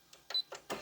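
A Baby Lock Brilliant sewing machine back stitches in four short, quiet mechanical bursts, each a brief whirring run of the needle with small gaps between.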